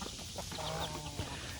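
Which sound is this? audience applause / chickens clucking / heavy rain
chickens clucking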